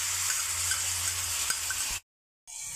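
Yogurt is stirred into green chillies frying in a pan, a steady close sizzle with soft scraping that cuts out briefly and then resumes.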